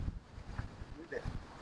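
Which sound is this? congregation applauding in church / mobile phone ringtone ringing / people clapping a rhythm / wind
wind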